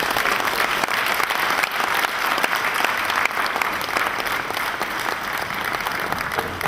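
Sustained, loud applause fills a banking and finance conference hall after a speech, a dense wash of many hands clapping without pause.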